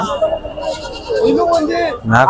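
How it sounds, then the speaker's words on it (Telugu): A goat bleats in a short, wavering cry close by at a livestock market, with people talking over and around it. "మేక"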